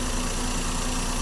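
A Suzuki Celerio engine idles with a steady, dense drone and a low hum, running rough with vibration, close and alone with no talk.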